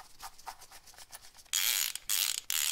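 A carburetor bowl bolt being snugged down on a Toro Super Recycler lawn mower: light scraping ticks at first, then loud ratcheting bursts broken by brief pauses, close up with no talking.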